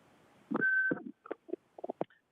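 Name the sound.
phone line beep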